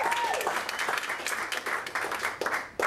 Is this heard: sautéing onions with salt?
no